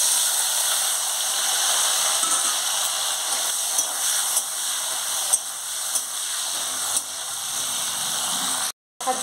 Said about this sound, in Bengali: তেলের মধ্যে নুন দিয়ে ভেজে নেব। নুন দিয়ে দিচ্ছি, প্রথমে আমি ডাঁটাটা ভেজে নেব।